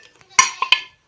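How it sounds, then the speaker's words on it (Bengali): A small bowl wedged inside a cooking pot clanks against the metal in a few sharp knocks, about three close, loud metallic hits after faint scraping. "তো বাটিটা হাঁড়ির মধ্যে ঢুকে গেছে, দেখো আমি বার করতে পারছি না"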